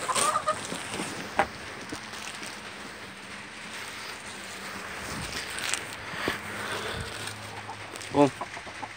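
Chickens cluck and murmur close by, with a few sharper squawks and a brief honk near the end, over a busy outdoor background.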